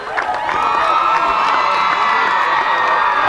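The crowd at a high school football game, Upper Cape against Dennis, keeps up loud continuous cheering with shouts and whoops near a third-down play, a steady wash of voices with no clear single speaker.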